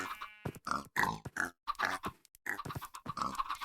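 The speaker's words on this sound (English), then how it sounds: "their little oinks are just the cutest thing ever" Pigs in the TerraFirmaCraft mod of Minecraft give a quick run of short grunting oinks separated by brief gaps, fairly close and clear, with no talk.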